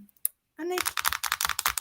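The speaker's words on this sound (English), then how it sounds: "How do you type with those epic nails?" Rapid clicky typing on a keyboard with long fingernails, light tapping strokes in a quick irregular rhythm, close by, after a brief voiced sound.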